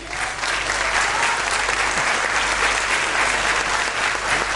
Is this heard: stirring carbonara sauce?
no